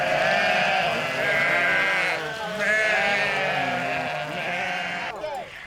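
A flock of ewes arriving at the village enclosure in Hășdate, Romania, during a milk-sharing festival bleats loudly and close by, with many overlapping cries that continue without a break.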